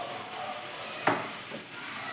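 Mushroom fried rice sizzles softly in a hot pan just after vinegar and dark soy sauce go in, a quiet steady hiss broken by a few light stirring scrapes and one sharper crackle.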